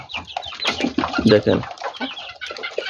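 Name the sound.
hill chicken chicks clucking while eating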